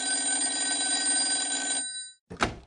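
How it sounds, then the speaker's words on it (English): A landline telephone bell rings steadily and loudly for nearly two seconds, stops, and is followed by a brief clatter like the handset being picked up. "The landline rang."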